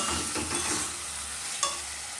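A spice masala is stirred and fried in a pan, giving a dense continuous sizzle with soft scraping strokes and one brief clink, close and fairly loud with no talking.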